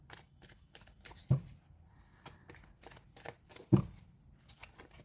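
Tarot cards shuffled by hand during a reading, a soft continuous riffling with two sharper slaps or taps standing out, fairly close and quiet, with no talking.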